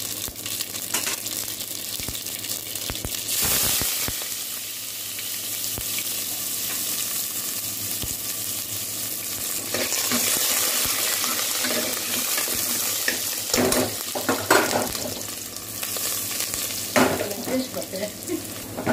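Mustard seeds and onion crackle and sizzle in hot oil for a cabbage kootu, a steady close frying hiss broken by several sharp stirring scrapes and spoon knocks against the pan.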